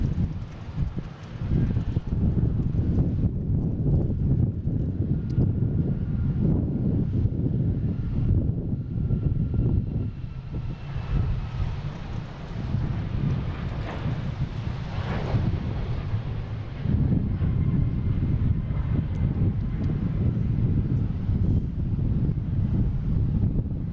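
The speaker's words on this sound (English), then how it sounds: "next taking off, we have United Airlines heading to Chicago" A United Airlines jet takes off at Boston Logan, its engines a broad low roar that swells and rolls on steadily, mixed with heavy wind buffeting the microphone; no one speaks.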